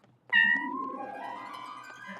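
A cartoon cat gives a single loud, drawn-out meow that fades slowly, heard close and alone.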